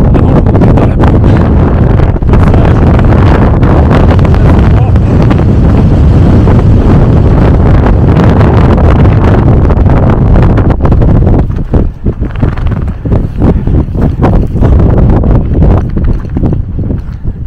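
Heavy mountain wind in the Pyrenees buffets the microphone in a loud, continuous roar, easing slightly toward the end; no voices are heard.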